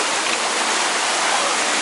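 Continuous splashing and rushing of water in a hotel swimming pool, a steady close hiss without breaks or distinct individual splashes.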